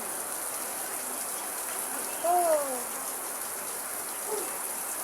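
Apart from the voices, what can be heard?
rain falling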